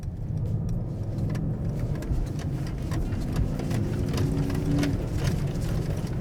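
Mercedes-AMG GT 43 4-Door in sport mode, a continuous deep engine and exhaust drone heard from inside the car, steady and fairly loud with slight rises in pitch, no voices.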